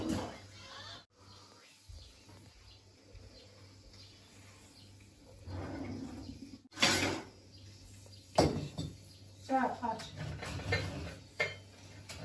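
Cutlery and dishes clatter in a home kitchen as a spoon is taken, with sharp clinks and rattles scattered over about twelve seconds. Someone talks in between, and a few quiet gaps separate the louder knocks.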